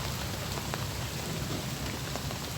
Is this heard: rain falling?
yes